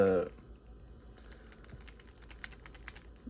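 Plastic joints of a Halo Infinite Spartan Gungnir action figure clack in a quick series of light, close ticks, following a brief word at the start.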